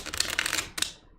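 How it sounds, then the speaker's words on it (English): A deck of playing cards riffle shuffled close up, two quick bursts of fluttering clicks, the second shorter, ending in a brief tail. "Yeah, suck it, riffle shuffles."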